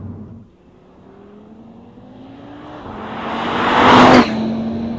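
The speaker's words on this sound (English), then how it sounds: "So thumbs up to the sound of this car and this engine." Audi RS 3 engine pulling hard under acceleration, a rising tone climbing steadily over several seconds to a loud peak, then dropping back as the revs settle; no talking.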